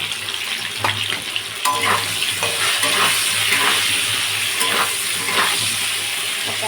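Turmeric and salt fry with spices in hot oil, a steady close sizzle with occasional scraping stirs of a spoon through the pan and no talking.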